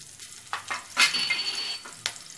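Green chili and panch phoron spices hit hot oil for pumpkin sabji, giving sharp crackling sizzles in several short bursts, one loud spatter near the middle and a lighter hiss trailing off.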